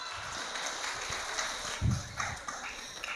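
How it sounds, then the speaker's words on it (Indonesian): A church congregation at a Christmas sermon gathering of an HKBP parish applauds, a steady diffuse patter of many hands at moderate distance, fairly faint, with a couple of dull low thumps partway through. "Tepuk tangan."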